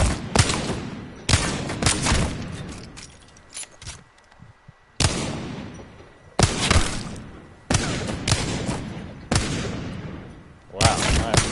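Repeated bursts of gunfire from a video game aim-training drill, several loud rapid volleys separated by short pauses, close and dominant.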